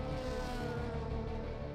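DTM race car engine at the Spielberg circuit in 2016, a steady, loud, buzzing drone with rich harmonics held throughout a short stretch, no voices.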